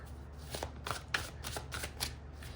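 A deck of tarot cards being shuffled by hand, a quick run of soft riffling flutters and papery slaps, close and quiet with no voices.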